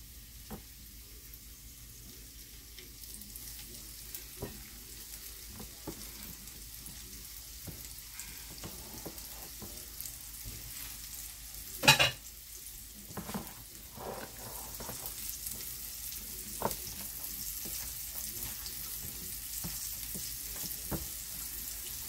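Fish fingers fry in very hot oil, giving a steady, fairly close sizzle with crackling pops and a louder sputter around the middle. No one speaks.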